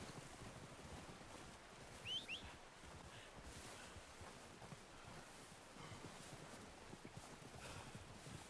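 Horse hooves clip-clop in the Red Dead Redemption 2 video game, a soft, steady beat of hoofsteps under a constant wind-and-water wash, fairly faint throughout.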